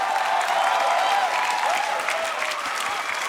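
Sustained applause from a studio audience at a televised band competition show, dense and steady clapping filling the room for the full stretch with no voices on top.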